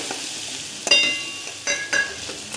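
Garlic, ginger, cumin, coriander and coarsely crushed fennel frying in a pan with kachori filling, giving a steady soft sizzle with a few louder stirring scrapes and pops, close and without talk.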